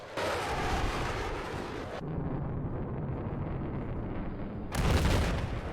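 Heavy, booming fire from an AC-130 gunship's tank-calibre cannon in Battlefield 4, a dense roar that cuts to a muffled rumble, then bursts loud again near the end.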